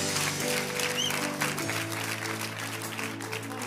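A church congregation claps under an organ or keyboard holding sustained tones. The clapping is moderate and somewhat scattered, mixed with the music, with no speech over it.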